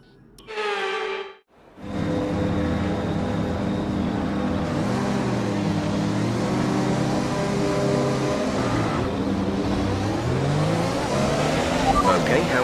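Open-wheel race car in the F1 2021 video game pulling away from a standing race start, a loud continuous engine roar with rising revs and gear changes, following a brief tonal burst at the very beginning.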